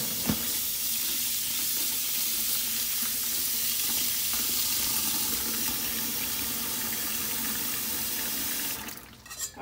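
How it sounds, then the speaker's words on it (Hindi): Cold tap water pours steadily over cooked tapioca pearls in a strainer, a loud continuous rushing splash that stops abruptly near the end. "इनके ऊपर अब हमने चलाना है ठंडा पानी।"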